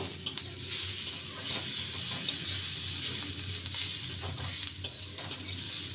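Oats pasta with tomato sauce stirred in a hot pan, a close, steady sizzle with scraping and occasional clinks of the spoon against the pan, no voices.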